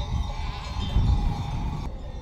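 Sheep bleat during a highland migration over a constant low rumble of outdoor noise, the calls blending into a steady, fairly loud wash.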